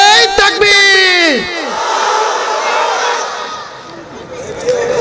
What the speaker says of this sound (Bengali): এখন আমার সাথে অবিবাহিতরা তাকবীর দিবেন।